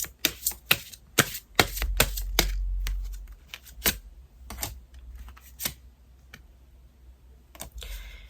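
Tarot cards being shuffled and handled up close make a quick series of crisp flicks and taps, denser at first and then sparse.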